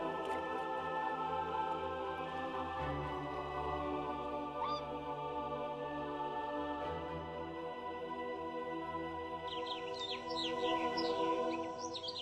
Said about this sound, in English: Swans are rarely seen in the river in front of the village at this time of year.